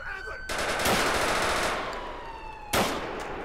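Bursts of rapid automatic gunfire ring out in a police shootout in the video game LCPDFR, where the suspect carries an AK, loud and dense with a final sharp volley near the end.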